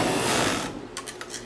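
A five-thread overlock sewing machine runs in a fast, dense mechanical whir, then cuts to a few short stitching bursts and clicks at close range.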